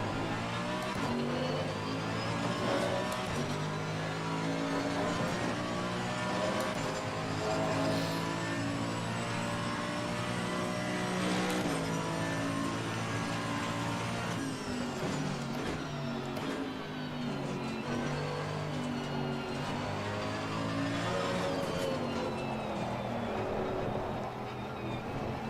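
A race car at Silverstone circuit, its engine a continuous droning, revving roar with shifting pitch sweeps that stays loud and close throughout.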